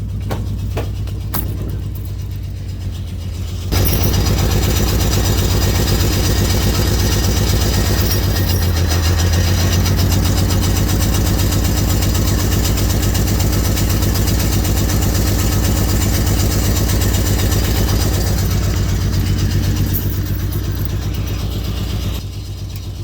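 A $300 auction-find car starts up and idles roughly, a loud, steady low exhaust drone with an uneven pulse, running close by for nearly twenty seconds before dropping back.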